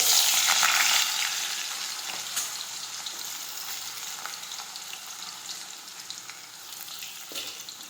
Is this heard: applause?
no